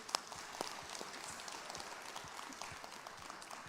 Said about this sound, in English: a huge round of applause for Charan here, please